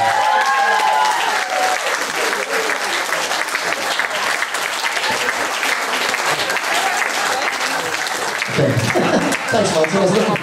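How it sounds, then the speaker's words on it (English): Sustained audience applause fills a hall at a 50th birthday party during a hypnosis stage act, dense and steady throughout, with voices murmuring faintly beneath the clapping. "Again, give them one more clap, please."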